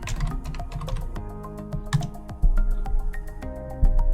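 Rapid typing on a computer keyboard while entering a search in Google Docs, a steady run of close, crisp key clicks with a few heavier strokes, no talking.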